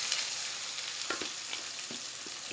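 Okra pieces fry in a pan with oil and curry leaves, giving a faint, steady hiss with a few soft stirring taps.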